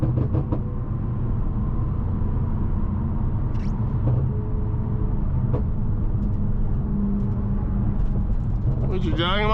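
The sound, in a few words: road traffic heard from a BMW M550i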